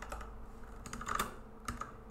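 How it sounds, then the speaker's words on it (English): Keys tapped on a computer keyboard while a command is entered in a Linux terminal: quiet, uneven keystrokes with a few sharper clicks, close by and with no talking. "and type in Boltz D."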